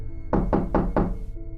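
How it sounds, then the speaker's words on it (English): Four firm, evenly spaced knocks on a door, loud and close, preceded and followed by a quiet low background hum. "only to wake up to the knocking again"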